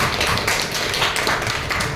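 Loud, continuous clapping from an audience after a public speaking performance, a dense unbroken patter of many hands filling the whole moment.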